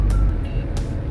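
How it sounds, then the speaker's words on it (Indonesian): Cabin of a 1993 Isuzu Panther 2.3 Hi Grade on the move, its diesel engine giving a steady low rumble inside, loud and close, with faint brief higher sounds over it. "suara luar tuh kedap, cuman yang masuk itu suara mesinnya."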